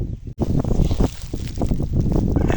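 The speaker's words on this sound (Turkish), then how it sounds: "Hava rüzgar da bayağı bir çıktı" Strong wind buffets the microphone with a loud, continuous rumbling roar, gusting unevenly throughout.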